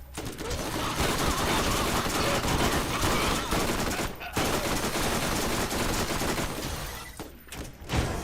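An enemy's chain gun in Borderlands firing long, dense bursts of rapid shots, loud and continuous with a couple of brief pauses.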